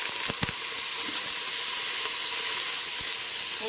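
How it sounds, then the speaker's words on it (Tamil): Washed mutton pieces dropped into hot sesame oil for a mutton kuzhambu, giving a steady, close broadband sizzle with a few sharp pops and crackles near the start. "இப்போ இதில் வந்து நம்ம கழுவி வச்சுருக்கிற மட்டன் எடுத்து அப்படியே போட்டுக்கலாம்."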